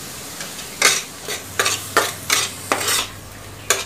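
Dal makhani ingredients fry in a pan with salt over high gas as a spoon stirs and scrapes, giving several sharp scraping strokes over a low steady sizzle, close and without talk.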